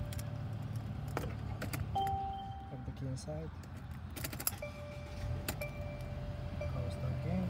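Small metallic jingles and clinks as the key is removed inside a 2019 Mercedes-Benz GLC300, with faint chimes and a voice speaking in the cabin.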